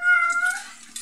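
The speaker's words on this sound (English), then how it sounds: "Meow." A domestic cat gives a single drawn-out meow, close and clear, tapering off over about a second with no other voices.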